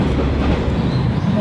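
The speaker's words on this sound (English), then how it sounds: "just listen to the sound of this old train going along the track" An old train running along the track through the Japanese countryside near Takeno Station: a steady, close rumbling roar with faint rhythmic clatter of wheels, continuous for the whole moment.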